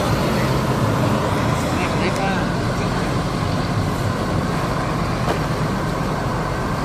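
ANS intercity bus driving on a highway toward Padang, West Sumatra, with a steady, loud broadband roar of engine and road noise that continues without a break, and a voice faintly audible underneath.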